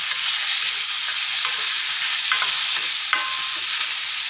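Ripe plantain pieces sautéing in ghee in a pan, a steady close sizzle with a few faint scraping stirs from a spoon, no voices.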